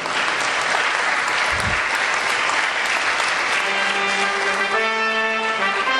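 Sustained audience applause at a GrandFront 2011 award ceremony as the main prize is received, a dense, loud, steady wash of clapping from a large crowd, with a voice and some musical tones entering near the end.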